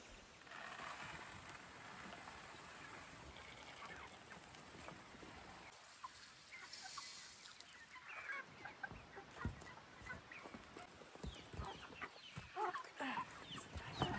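Meat chickens on a farm cluck and murmur in a steady flock chatter, with soft scattered calls rising and falling at moderate distance.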